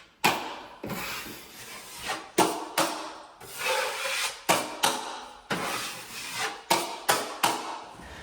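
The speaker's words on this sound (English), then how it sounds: "here was the painful part of sanding every square inch that had to be primed" Hand sanding of primed drywall, rhythmic long abrasive rubbing strokes, roughly a dozen back-and-forth passes, close and steady with brief gaps between strokes.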